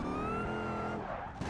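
Tyres skidding and squealing as a car loses grip and spins in BeamNG Drive, with a steady tonal whine over engine rumble, close and fairly quiet.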